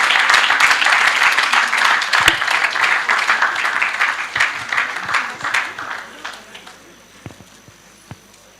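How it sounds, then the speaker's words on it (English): Loud, dense applause from an evening event audience welcoming a speaker forward, gradually thinning until only a few scattered claps remain. "I believe you can be louder with your applause."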